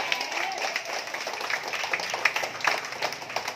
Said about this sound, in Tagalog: bigay na bigay kung pumalakpak ang mga matatanda